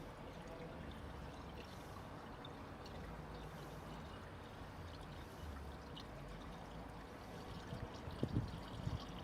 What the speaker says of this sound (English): I'm gonna top this thing off with some water